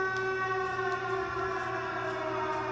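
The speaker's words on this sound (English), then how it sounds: "Yeah, that does sound like a siren." A steady, loud siren wail drones throughout from a Siren Head game built in Dreams, a sustained stack of tones with no voice over it.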